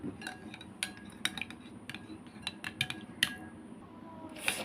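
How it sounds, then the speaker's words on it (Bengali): A spoon stirs milk mixed with vinegar in a bowl, giving a quick irregular series of bright metallic clinks and taps against the sides, close and clear. "এটাকে আমি চামচ দিয়ে খুব ভালো করে একটা মিক্স করে নেবো"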